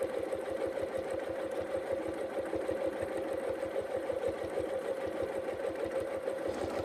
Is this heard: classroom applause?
no